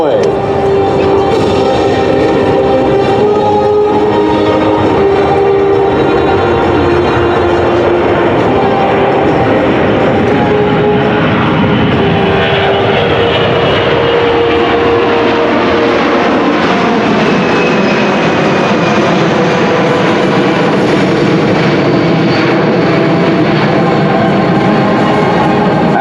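A US Air Force military cargo aircraft roars loudly through takeoff and a steep climb, a dense continuous engine rumble that slowly shifts in tone over about twenty-six seconds, with a voice narrating over it.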